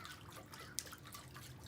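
A tiered garden fountain trickles and drips in a continuous soft patter of falling water, close but quiet, with one brighter splash midway.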